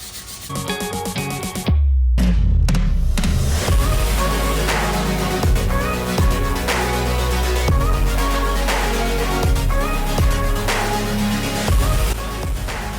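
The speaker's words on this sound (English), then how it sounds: "I'm gonna sand this down using a electric sander and just some hand sanding with a 120 grit" An electric sander buzzes continuously against varnished wood, loud and close, with a steady grinding hum and repeated rhythmic passes.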